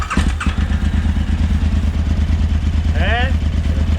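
A KTM 950 LC8 Adventure V-twin motorcycle idles steadily up close with a deep, lumpy throb and a brief rev, while a person talks over the engine.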